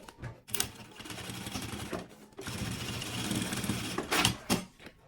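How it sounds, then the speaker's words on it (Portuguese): A sewing machine runs a safety seam along the side of a sublimated fabric toiletry bag, with whirring stitching bursts of varying length separated by short pauses, close and clear. "E vou passar uma costurinha de segurança aqui na máquina."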